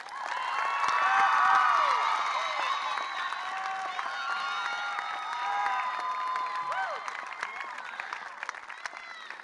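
A graduation audience at Delran High School's Class of 2025 ceremony applauds the Teacher of the Year with sustained, dense clapping and scattered cheers, loudest early and holding steady to the end.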